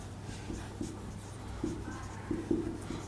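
Pen or marker strokes scratch across a board in short bursts, a few quick taps and squeaks at moderate volume with quiet room tone between.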